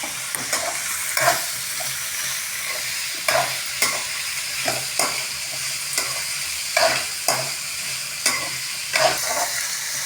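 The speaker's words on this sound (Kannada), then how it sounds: "ಈರುಳ್ಳಿ ಮತ್ತು ಶಿಮ್ಲಾ ಮಿರ್ಚಿ ಚಲೋತ್ನಾಗೆ ಬೇದಾವು" Onions and capsicum sizzling in a pan for mixed vegetable bhaji, with a steady frying hiss and repeated scraping stirs at an irregular rhythm, close and moderately loud, with no talking.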